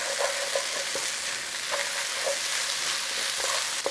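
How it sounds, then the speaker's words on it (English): Diced apple is stirred in a hot frying pan, giving a continuous bright sizzle broken by light scraping and tapping strokes from the stirring utensil. "Give it a stir in."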